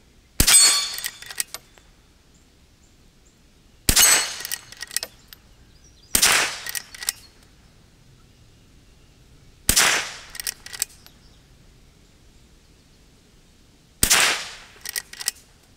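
Five sharp rifle reports from a Henry H001 .22 LR lever-action rifle, each a crisp crack followed by short metallic lever-cycling clatter, spaced a few seconds apart with quiet gaps between.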